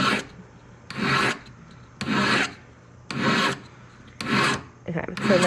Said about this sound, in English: I'm always filing on my bench pin, and that will give me the most support and make sure that my file strokes are actually doing something.